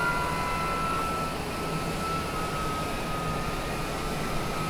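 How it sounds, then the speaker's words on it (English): An airplane approaches to land at Ketchikan, Alaska, with gear and flaps down, giving a steady broadband roar of airflow and engine noise with a faint whine, constant in loudness throughout and with no talking. "Gear's coming down. Do another notch of flaps."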